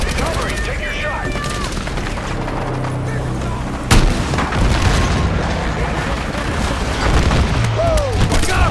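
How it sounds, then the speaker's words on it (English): A helicopter is shot down and explodes in the video game Battlefield 6, loud booming blast amid continuous gunfire and artillery-like crashes, with a sharp impact near the middle, voices shouting underneath. "I got him! Helo's down!"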